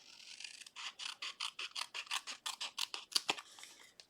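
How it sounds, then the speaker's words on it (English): Paper snips cut out a stamped greeting card with a quick series of close, crisp snipping strokes, about a dozen evenly spaced cuts in a steady rhythm at a quiet level. "try to straighten it up a little bit as I cut it out with my paper snips"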